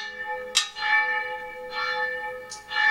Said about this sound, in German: Ist schön so eine Kirchenglocke, oder?